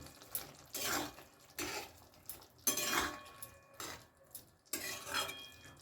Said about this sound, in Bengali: পোস্ত বাটাটা এখন আমি এর মধ্যে দিয়ে দিলাম ভালো করে একটু নাড়াচাড়া করে মিশিয়ে নেব